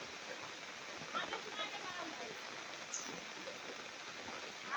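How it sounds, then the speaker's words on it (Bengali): Steady rain falls outdoors, a continuous soft hiss of drops hitting surfaces that stays even and fairly faint throughout, with no talking. "বৃষ্টি পড়তেছে গায়ের উপরে"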